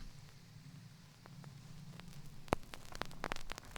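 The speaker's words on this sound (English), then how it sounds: "Just your regular poppy vinyl noise." Soft vinyl surface noise with a low hum, scattered crackles and a few sharper pops growing denser toward the end.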